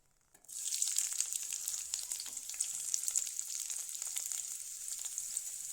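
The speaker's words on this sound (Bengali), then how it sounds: "লঙ্কাগুলোকে লাল করে ভেজে নেবো আমি এখান থেকে দুইটা লঙ্কা তুলে নেব এবার দিয়ে দেব পেঁয়াজ কুচি" Chopped onion hitting hot oil in a pan with red chilies gives a sudden loud sizzle that settles into steady, close frying with no talk.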